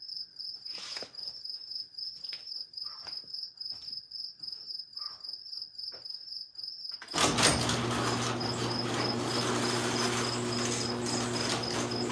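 Crickets chirp in a steady, high, rhythmic pulse outside near a garage, with scattered soft knocks. Then a loud broad hum takes over and mostly drowns them out.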